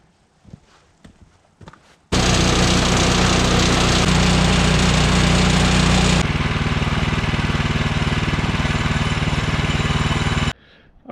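A Woodland Mills sawmill quarter sawing a log runs loud and steady for about eight seconds, a dense engine-and-blade roar that drops in pitch partway through the cut, then stops abruptly into near silence.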